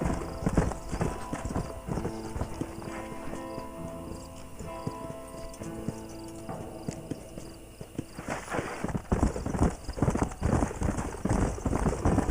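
Horse hooves clip-clopping steadily in the Western video game Red Dead Redemption, with a horse whinnying and music running underneath; the pace quickens toward the end.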